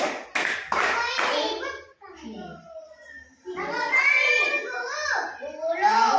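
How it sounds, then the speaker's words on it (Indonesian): Schoolchildren in an Indonesian classroom clap in quick counted bursts on a teacher's call, sharp group claps near the start followed by lively children's voices and chatter. "Tepuk 1. Tepuk 2. Semangat. Tepuk 3."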